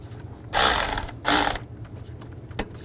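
Ratchet tightening manifold bolts on a 2010-2017 Chevrolet Equinox, two short, loud bursts of fast clicking close by, followed by a single sharp metallic tap.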